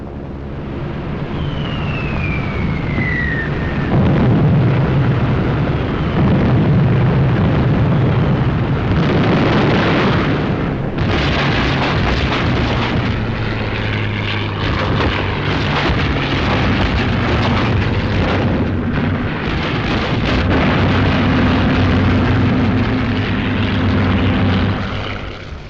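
Heavy WWII bombing in a Tunisian desert battle: continuous loud rumbling explosions and aircraft engine drone, with a descending whistle early on, filling the whole stretch without any talking.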